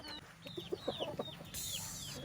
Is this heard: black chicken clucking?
yes